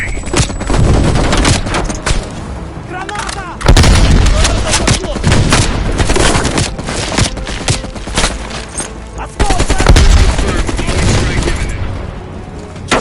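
Machine gun fire in Call of Duty Black Ops on PS5: rapid bursts of loud, close gunfire mixed with heavy booms and artillery-like blasts, continuing throughout while voices speak over the battle.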